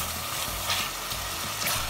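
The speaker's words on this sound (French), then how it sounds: "on va cuire le poulet dans l'huile de sésame et colorer nos morceaux" Chicken pieces fry in sesame oil in a pan and are stirred, giving a dense, steady sizzle with scraping stir sounds beneath it.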